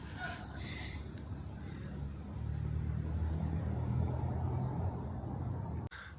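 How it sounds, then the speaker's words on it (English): A car rolls past on a cobblestoned old-town street in Eymet in the Dordogne, its engine and tyre rumble swelling through the middle and fading, with faint voices early on and a sharp click near the end. "Pity about the cars."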